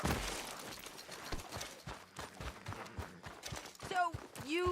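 Hoofbeats from a horse in the Western game Red Dead Redemption 2 clop in a steady, close rhythm while voices talk over them, and a whinny comes near the end.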